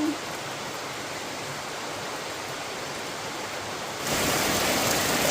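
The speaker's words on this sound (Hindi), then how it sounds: "बारिश देखो भाई कितनी सारी आ गई है" Heavy monsoon rain pours down as a dense, continuous hiss, steady throughout and growing noticeably louder for the last second or so, with no talking.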